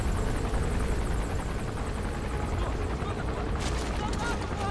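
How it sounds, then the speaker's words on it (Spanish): A helicopter in Metal Gear Solid V roars close overhead with a heavy rotor thrum. A burst of sharper noise comes near the end, and a player talks over the action. "¿Dónde está el helicóptero? ¡Que le tengo encima, tío!"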